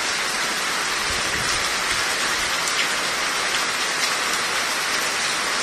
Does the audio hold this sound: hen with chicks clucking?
no